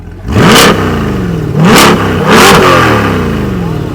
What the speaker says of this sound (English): We'll give it a few little revs.